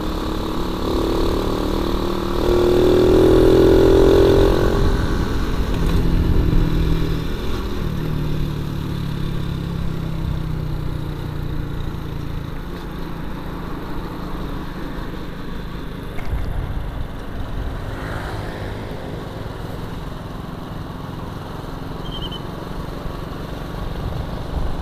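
A Honda C70 motorcycle rides along with its small engine humming steadily and close, swelling briefly as it revs and then settling to an even drone.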